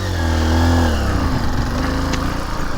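A 2023 Honda XR150L motorcycle pulls away in first gear, its single-cylinder engine rising in pitch and revving loud and close for a few seconds before settling into a steady, pulsing drone.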